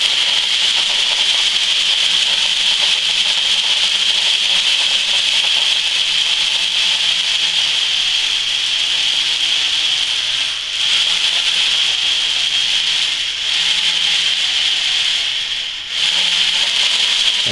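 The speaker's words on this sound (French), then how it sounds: "C'est de percer juste devant l'œil, ici, un trou." A steady, loud grinding rasp, like a drill bit or file working through a squid jig up close, runs almost unbroken with a few brief dips and no speech.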